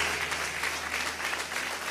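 A church congregation claps together to welcome guests, a full, steady wash of applause at an even level throughout the short burst.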